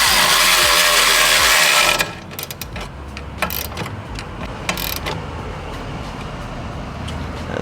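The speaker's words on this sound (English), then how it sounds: "Swapping to a 13 wrench and a 13 socket." A ratchet with a 13 mm socket tightening a bolt on a Mk8 Golf R during suspension work, quick ratcheting clicks close up after a loud whooshing burst at the start.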